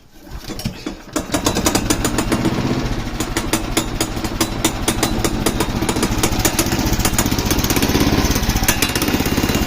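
A small go-kart engine is pull-started, then catches and keeps running with a loud, rapid, steady putter close by.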